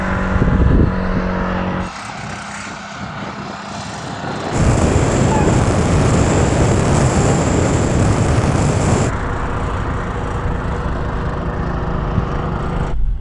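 A tuk tuk three-wheeler engine at a drag race roars in a loud, steady drone that swells partway through, with road and wind rush throughout.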